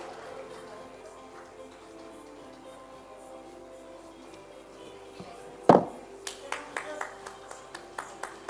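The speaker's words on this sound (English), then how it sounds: "Please do give all the panelists and Chetna a huge round of applause." Audience applause for panelists at a healthcare summit, starting abruptly after a stretch of quiet room tone as a burst of scattered claps that continues at moderate loudness.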